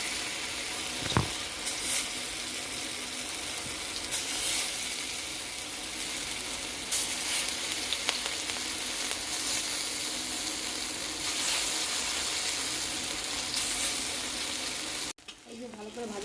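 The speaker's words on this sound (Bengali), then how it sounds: "তেল গরম হয়েছে, দিয়ে দিলাম" Food dropped into hot oil sizzles loudly and steadily from start to finish, with a few sharp clicks and pops scattered through, then cuts off abruptly near the end.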